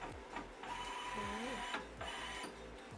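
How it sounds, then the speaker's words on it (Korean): Textile and UV digital printers run inside a university maker space, a steady mechanical whir with repeating print-head sweeps and rhythmic carriage knocks, close and continuous with no talk over it. "면직물의 출력이 가능한 텍스타일 디지털 프린터와 금속 및 유리 등 다양한 표면의 출력이 가능한 UV 디지털 프린터 두 가지가 있습니다"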